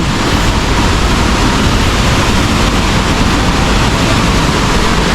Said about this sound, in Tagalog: lakas ng bagsak ng tubig dito